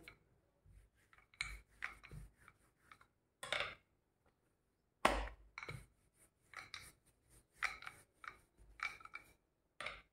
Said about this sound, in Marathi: छान अशी आपण लाटून घेऊया.